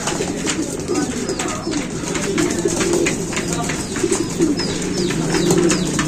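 Racing pigeon in a loft being fed, low soft cooing repeating under a continuous background of other birds and handling noise, with a person talking nearby.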